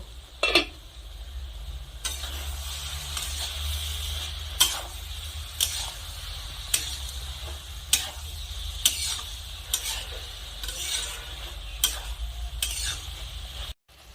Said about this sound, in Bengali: এখন আমি ঢাকা খুলে একবার নেড়ে নেব